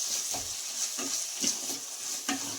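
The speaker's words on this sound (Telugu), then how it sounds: "అందుకని మనం దీంట్లోనే బాగా ఫ్రై చేసుకోవాలండి మెంతాకుని" Fenugreek leaves fry in a pan for a chicken dish, giving a constant soft hiss of sizzling broken by occasional stirring scrapes.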